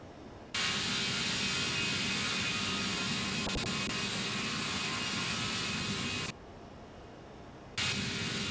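Jet engines of a ToLiss A319 airliner in the X-Plane 12 flight simulator with a sound mod, a steady whining hum that cuts in abruptly, holds at an even level, then drops out and returns near the end, with no talking.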